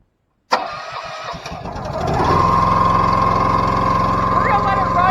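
A dumpster business engine cranks over in cold winter weather, then catches and settles into a steady loud idle with a high whine rising, while people talk over it nearby.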